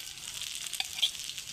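Fish frying in very hot oil gives a steady, fairly faint hiss. Brief crackles and pops break through it, and no one speaks.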